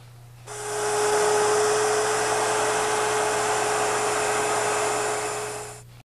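A router with a template cuts a patch from scrap wood stock, a loud steady high-pitched whine that starts abruptly, holds for about five seconds and stops, with no talk.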